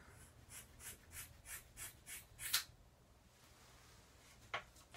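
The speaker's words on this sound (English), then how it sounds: "I'm using the scissors to at least get down like near the length." Scissors cut hair close up in a self-performed head shave, giving about eight rhythmic, evenly spaced crisp snips followed by a pause and one last snip.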